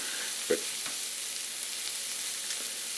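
Lean ground beef mixed with breadcrumbs sizzles steadily in a cast iron pan, a constant close frying hiss with a couple of soft stirring scrapes early on, no voices.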